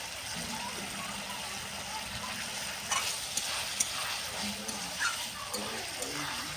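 A spicy fish curry with tomato and chili cooks in a pan in an outdoor village courtyard in winter, giving a steady sizzle with occasional scraping stirs and clinks while someone talks over it.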